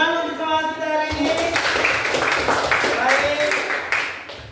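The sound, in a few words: classroom students clapping hands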